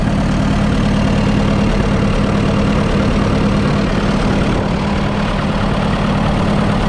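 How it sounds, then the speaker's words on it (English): Fordson tractor engine on the Roadless Standard, running a bit lumpy on petrol alone, gives a loud, continuous close-up chugging rumble that stays steady throughout with no talk over it. "A bit lumpy at the moment, it's running just on petrol."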